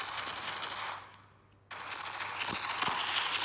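Gunfire in the online mobile shooter Call of Mini Infinity, a quiet game soundtrack where the sound drops away briefly, then returns with a few sharp shot-like clicks and thuds.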